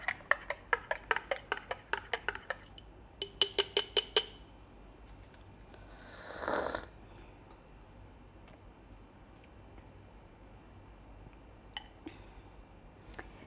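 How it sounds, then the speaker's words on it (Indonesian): A spoon stirs a cup of freshly brewed coffee with rapid, bright clinks against the cup in two quick bursts, followed by a soft swish and a few faint taps in a quiet room. "Aku aduk dulu."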